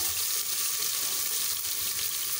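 Chopped onion with ginger-garlic paste fries in a pan for a black urad dal, giving a steady, dense broadband sizzle that runs unbroken throughout at close range, with no voices.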